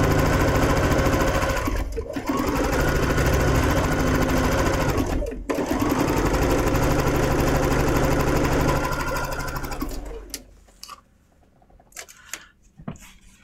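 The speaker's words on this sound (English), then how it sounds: "Drop my needle and go real slow and watch your 1/4 of an inch." A sewing machine stitches a quilt block seam, running steadily with a dense mechanical whir and needle rattle, briefly pausing twice, then stopping near the end, followed by faint handling clicks.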